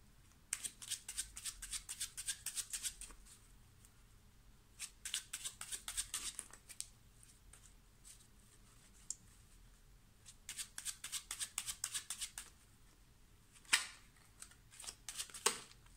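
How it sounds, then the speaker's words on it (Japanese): Tarot cards being shuffled by hand, repeated crisp riffling and flicking bursts with short pauses in between, close and fairly quiet. "もう少しシャッフルしますね。"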